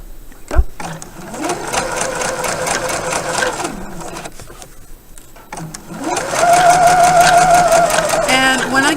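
A sewing machine runs long basting stitches along a centred zipper, a loud, steady mechanical whir close by that runs for several seconds, pauses briefly, then resumes at a slightly higher pitch.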